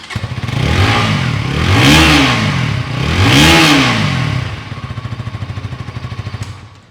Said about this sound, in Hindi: सबसे पहले ऑल न्यू KTM 160 के एग्जॉस्ट नोट आपको सुनाते हैं।